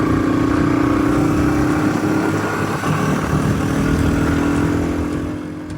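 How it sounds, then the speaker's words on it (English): A motorbike engine roars steadily at close range while riding across a farm, holding a constant pitch before easing off slightly at the end. "take a motorbike out because we might need to move some sheep"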